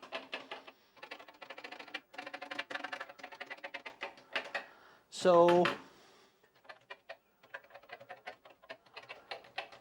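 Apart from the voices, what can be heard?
pressing keys on a Commodore PET computer keyboard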